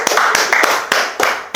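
A few sharp claps in a classroom during a math lecture, roughly four separate slaps spaced unevenly over a second and a half, close and crisp.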